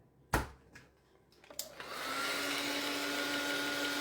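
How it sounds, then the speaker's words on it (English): A heat tool blowing hot air to dry an art journal page: a few sharp clicks and knocks, then the tool switches on into a steady, loud whooshing hiss that continues alone. "I can't live without my heat tool. It's not a hair blower, it's a heat tool."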